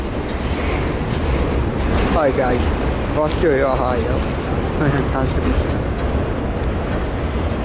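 A long CSX freight train passes in Fostoria, Ohio, a steady loud rumble with rail squeals and screeches rising above it while someone speaks briefly.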